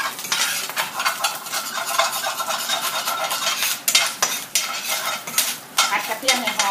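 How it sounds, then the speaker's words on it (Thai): Garlic stir-frying in a pan for stir-fried rice vermicelli with egg, a loud continuous sizzle with repeated scraping and clanking of a utensil against the metal pan, no voices. "ผัดกระเทียมให้หอมค่ะ"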